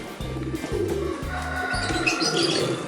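A Fischer's lovebird held in the hand gives a run of close, loud chirps and short repeated calls in an irregular rhythm, with no talking over them.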